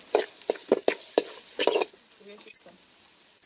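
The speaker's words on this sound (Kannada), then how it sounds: "ಇವಾಗ ಈ ಥರ ರೋಸ್ಟ್ ಮಾಡ್ಕೊಳ್ಳಿ" Chilli powder and coriander powder roasting in a pan for an egg and beans curry, with short bursts of sizzle and spoon scraping in uneven strokes, close, separated by quieter gaps and with no talking.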